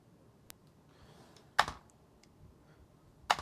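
A Commodore 64 keyboard is tested with a few separate keystrokes, sharp clicks spaced far apart with two louder clattering presses among them, close and otherwise quiet.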